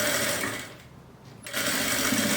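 A sewing machine stitches the ends of two fabric handles onto a Bible or book holder, its close, steady mechanical whir easing off briefly midway before running at full speed again.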